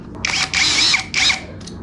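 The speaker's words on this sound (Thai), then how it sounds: "เจาะมานี่เร็วจริง" A CANLIDI CID 100 three-mode 100 Nm drill bores into a precast concrete wall in three short, loud, whining bursts separated by brief pauses.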